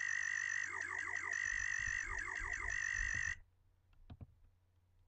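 A wet, vibrato-heavy synth lead built in Native Instruments Massive, recreating a sound from a song, warbles in repeated wobbling phrases for about three seconds, then cuts off, leaving faint clicks and low rumble.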